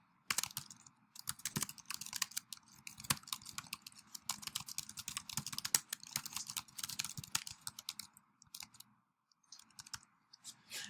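Rapid, continuous typing on a computer keyboard, with dense close clicking keystrokes and brief pauses, heard alone with no talking.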